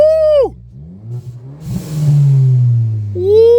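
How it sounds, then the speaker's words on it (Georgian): A hot Ford Fusion 1.5 EcoBoost revved in neutral: a loud, close rev that drops away, a rumbling idle, then a second swelling rev climbing near the end. "აბა დავაი, გაზი მივცეთ ხავასტოიზე."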